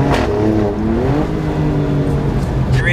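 A 2019 Alfa Romeo Stelvio Quadrifoglio engine revs up and climbs in pitch, then settles back, heard from inside the cabin with the windows down, loud and close with steady road noise behind.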